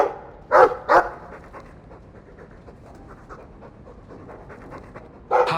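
A dog in Dragon Age II pants steadily, with two sharp barks early on and another bark at the end, all close and fairly loud and with no voices.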